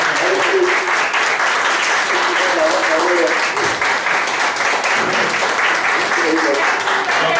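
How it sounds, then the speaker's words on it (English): An audience at a college lecture on translation studies breaks into sustained, dense applause for the speaker, a continuous close clatter of many hands with some voices mixed in. "we would want to all stand up and give you a round of applause"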